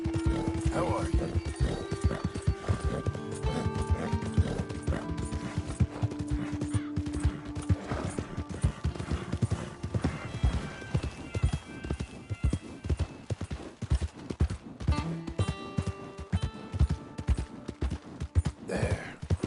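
Horse hooves clip-clop steadily on a dirt trail while riding in the video game Red Dead Redemption 2, a brisk rhythmic clatter close by, with character voices talking over it and a brief neigh.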